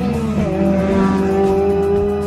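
A Suzuki Alto (HA36S) engine idles and revs through an HKS Silent Hi-Power muffler, a close, steady, throaty drone with a slight rise in pitch partway through.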